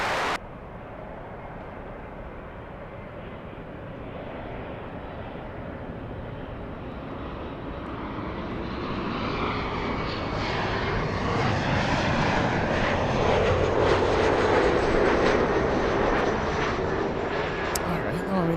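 A jet airliner lands on runway 24 right at LAX, its engine roar swelling from a distant whine into a loud, broad rush as it passes, with a person talking over it.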